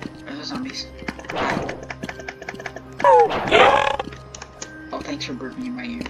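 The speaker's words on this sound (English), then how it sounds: "thanks for burping in my ear" A person burps loudly and close into a microphone, a rough drawn-out belch in the middle of a stretch of shuffling noises and voice chatter.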